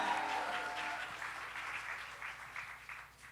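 Audience applause for a band member at a live session, a crowd clapping steadily and fading slowly toward the end, moderately loud with no voices over it.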